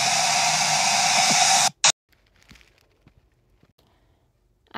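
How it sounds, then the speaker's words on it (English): A blow dryer runs steadily as a loud, close broadband whoosh for almost two seconds, then abruptly cuts off, followed by a short burst and near silence with faint scattered noises. "sleeping with a blow dryer to keep us warm"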